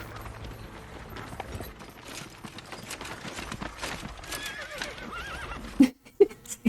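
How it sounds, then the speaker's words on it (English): Horses neighing in a battle scene from the film Gladiator: several whinnies and snorts over a busy background of clip-clop hooves and clanking, ending in a few sharp, louder horse calls. "Those horses were talking to each other."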